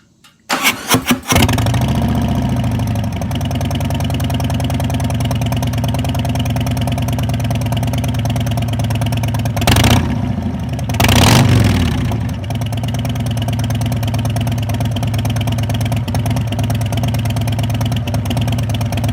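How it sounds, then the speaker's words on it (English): A 2018 Harley-Davidson Deluxe with a Milwaukee-Eight engine and Thunder Torque exhaust inserts fires up with a few sharp pops, then settles into a loud, deep, throaty idle with a couple of brief revs partway through. "put the Thunder Torque inserts in there, and it sounds like a motorcycle now"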